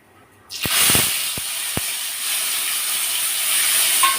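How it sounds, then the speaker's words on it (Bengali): Cumin paste drops into hot mustard oil with fried mustard seeds, bursting into a loud, close sizzle after a moment of quiet, with a few sharp crackles before it settles into a continuous hiss. "সরিষাটা বেশ ভাজা হয়ে গেছে এবার আমি দিয়ে দেব জিরে বাটাটা"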